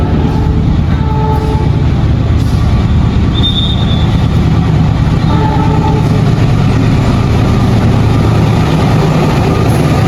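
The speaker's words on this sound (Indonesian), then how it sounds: "Kereta api Amotis, angkutan motor gratis sudah masuk di jalur 2 stasiun Lempuyangan" The KA Amotis free motorcycle-transport passenger train pulls into track 2 at Lempuyangan station in Yogyakarta with a loud, continuous rumble of rolling wheels and a few high, brief wheel squeals.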